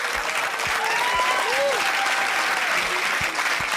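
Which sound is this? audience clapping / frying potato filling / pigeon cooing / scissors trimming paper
audience clapping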